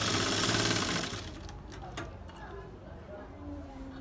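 Sewing machine stitching gharara fabric, a loud whirring run at the start that eases off and continues more faintly, with a few sharp clicks partway through.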